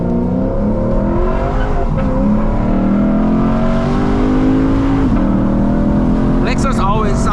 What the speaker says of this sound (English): Oh my gosh, the downshifts.